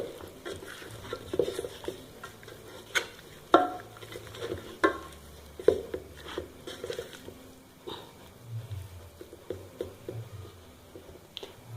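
Raw chicken pieces are stirred and squished together with spices in a bowl for a chicken curry, giving wet, irregular mixing and patting sounds with occasional sharper knocks, close by and moderately loud.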